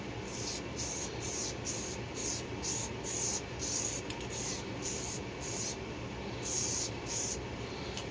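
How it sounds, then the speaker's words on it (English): An aerosol rattle can of spray paint hisses in a steady run of short bursts while a 2016 Dodge Dart dash pad is wrapped in fabric, the spraying fairly close and continuous without talk. "it's kind of like using a airbrush can. If anybody's ever used a rattle can to, basically spray paint anything"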